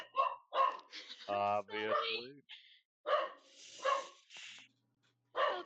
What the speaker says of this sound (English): All I hear is bark!